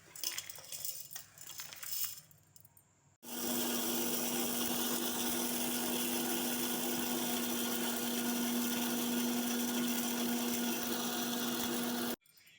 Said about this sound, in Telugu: వేగినవి జార్లో వేసి మిక్సీ పట్టాలి